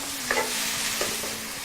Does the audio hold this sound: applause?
no